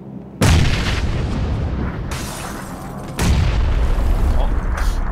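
Grenade blasts in PUBG inside a multi-storey house: a loud, booming detonation bursts in suddenly, with rumbling debris trailing off and a second heavy blast following about three seconds later.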